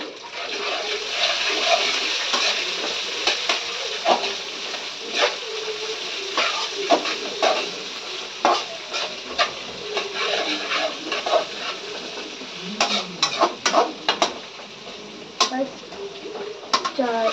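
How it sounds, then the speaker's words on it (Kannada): Onions hitting a hot pan and frying, with a steady broadband sizzle throughout and scattered clinks and stirring scrapes close by; no one speaks. "ಈರುಳ್ಳಿ ಹಾಕ್ತೇವೆ ಇವಾಗ"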